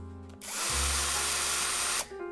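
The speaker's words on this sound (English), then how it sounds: "Power tools." A power drill whirs at high speed for about a second and a half, loud and close, starting abruptly and cutting off just as suddenly.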